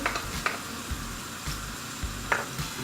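Red kapya pepper and çökelek cheese sautéing in a pan: a soft sizzle punctuated by occasional scrapes and taps of a stirring utensil.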